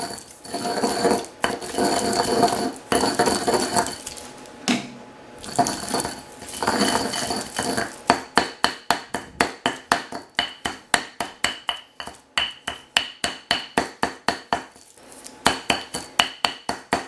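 Repeated sharp knocks of a pestle pounding garlic into a fine paste in a mortar, first as a dense, busy clatter, then as a steady run of distinct, close strikes.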